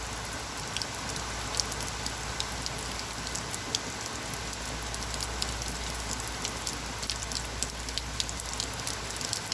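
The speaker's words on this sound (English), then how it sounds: "Here comes the rain again. See it pounding on the porch." Steady rain pounds on a porch during a bad storm, a constant dense hiss with scattered sharper drops, fairly close and even throughout, with no voices.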